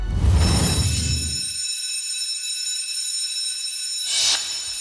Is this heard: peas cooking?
no